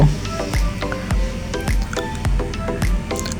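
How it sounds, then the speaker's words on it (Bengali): Milk and rice for payesh with cardamom and cinnamon being stirred in a pot, giving repeated soft squishing, sloshing strokes with small clinks, steady and close, with no talk. "এখন আমি আস্তে আস্তে সুন্দরভাবে নাড়তে থাকব"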